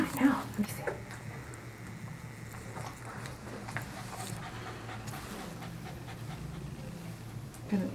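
A West Highland White Terrier pants heavily and quickly during grooming, a steady rapid breathing rhythm up close, with a person's voice briefly heard in the background.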